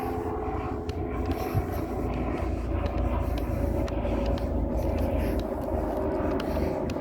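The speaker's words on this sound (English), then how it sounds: "there's a helicopter" A helicopter flies overhead during an afternoon outdoor walk, its engine a steady low rumble that holds at moderate loudness throughout.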